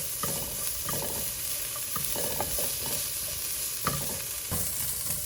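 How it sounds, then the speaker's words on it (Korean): Carrots stir-fried fast over high heat in a single pan for japchae, a steady sizzle broken by repeated scraping strokes of a spatula, close and fairly loud with no talk. "조금 센 불에다가 빠르게 볶습니다."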